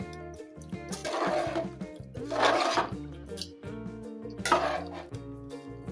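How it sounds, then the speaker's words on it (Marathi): Chicken pulao is stirred in a cooking pot in three scraping, rustling bursts, with steady tonal music playing underneath. "त्याला मिक्स करून घ्यायचं चांगल्या पद्धतीने."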